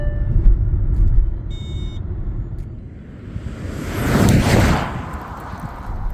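A Kia EV9 electric seven-seat SUV weighing over 2.6 tons accelerates hard from 0 to 100 km/h, heard as cabin road rumble with a rising whoosh of tyre and wind noise that swells near the end.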